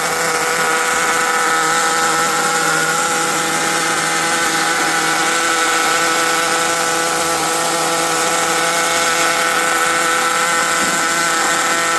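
A Colt 10 nitro RC engine runs continuously while being tuned toward idle, a loud, steady, high-pitched buzzing whine with no pauses and no talk.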